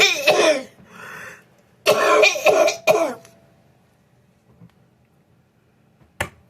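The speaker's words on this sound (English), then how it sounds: "Sorry, I got that post-COVID cough." A person with a lingering post-COVID cough coughs in several harsh, close bursts, two clusters followed by a single sharp cough after a quiet stretch.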